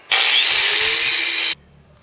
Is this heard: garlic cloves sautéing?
no